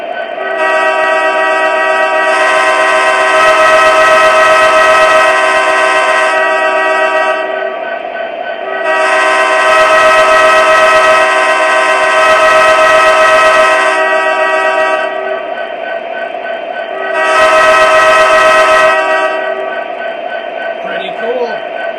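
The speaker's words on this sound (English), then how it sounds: "Let's see if that'll trigger the quilling horn." An MTH Premier Norfolk Southern Heritage Series SD70ACe model locomotive sounds its horn in three long, loud blasts, the middle one rising and falling in a quilled pattern, over a steady electronic engine drone.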